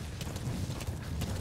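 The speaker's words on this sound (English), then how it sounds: "Run on D-Horse." D-Horse gallops in Metal Gear Solid V: The Phantom Pain, a quick, rhythmic clip-clop of hooves that is quiet and steady throughout the short moment.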